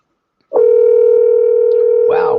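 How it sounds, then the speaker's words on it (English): Telephone dial tone heard while calling a caller in, a steady loud electronic tone that starts abruptly and holds unbroken, with a brief bit of voice near the end. "So let's see if we can get Leslie on the phone"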